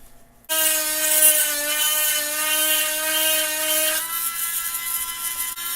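A 12 V chainsaw sharpener grinds a chain tooth with a steady, high-pitched electric whine that starts abruptly, holds for several seconds, then drops slightly in pitch as the grinding wheel bears down, loud and close with no talk.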